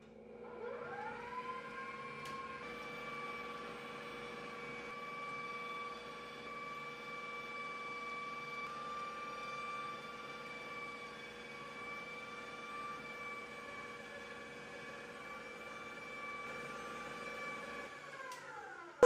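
Electric stand mixer whirring steadily as it beats peanut cake batter, a motor tone rising at switch-on, holding level for most of the stretch, then winding down at the end.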